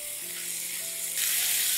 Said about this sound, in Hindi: अब इसमें हम चिकन डाल देंगे चिकन को फ्राई कर लेंगे